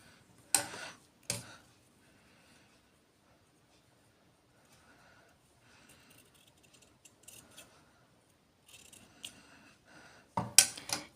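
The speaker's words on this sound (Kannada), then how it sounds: "ಈಗ ಈ ಎಕ್ಸ್ಟ್ರಾ ಬಟ್ಟೆನ ಸ್ವಲ್ಪ ಟ್ರಿಮ್ ಮಾಡ್ಕೊತೀನಿ" Scissors trim extra cloth from a dori cap being stitched, a few sharp close snips with quiet gaps between them, ending in a last cluster of cuts.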